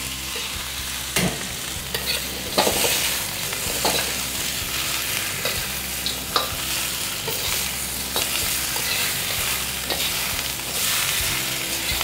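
Pork knuckle and ginger sizzle steadily in a hot wok, with periodic scraping and clanking as a spatula turns the pieces. It sounds close and continuous, with no voices.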